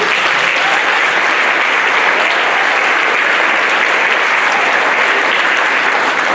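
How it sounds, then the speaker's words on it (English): Continuous, loud applause from a school band concert audience honoring a band student, dense and even clapping filling the whole stretch with no talk over it. "Please give him a round of applause"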